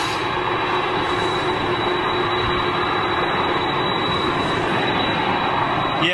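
Steady, loud jet engine roar from aircraft at Manchester Airport, including Rolls-Royce powered British Airways and Virgin Boeing 747s, a continuous broadband rumble with a thin high whine, no voices.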